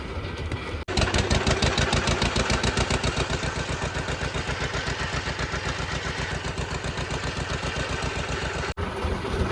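A fishing boat's engine runs steadily out at sea during deep-sea prawn fishing, a loud, continuous mechanical drone with a fast regular pulse that starts abruptly after a brief pause and holds level, then dips once near the end.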